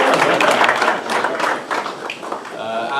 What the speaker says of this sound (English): give a round